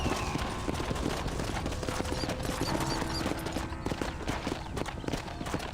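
Horse hooves gallop in Red Dead Redemption game audio, a steady clip-clop rhythm running the whole stretch amid dense, busy background sound with scattered sharp hits like distant gunfire.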